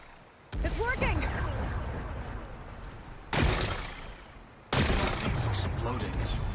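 Big booming blasts as rocks are blown apart in Horizon Forbidden West, three loud explosions each followed by a long rumbling, crackling tail.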